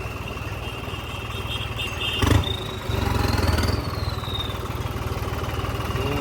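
A tractor engine runs steadily at close range, a low continuous rumble with a brief louder clatter partway through and a whining tone rising and falling above it.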